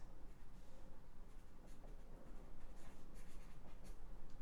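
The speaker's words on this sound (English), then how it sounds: "we can go ahead, we can write that shit down" Pen or pencil writing on paper, a continuous soft scratching of strokes heard up close and fairly quiet, with no talking.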